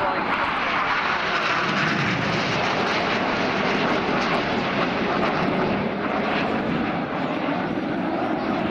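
RAF Red Arrows jets roar through a rolling flying display at Air Waves Portrush, a loud, continuous broadband engine rush filling the air while a commentator talks over it.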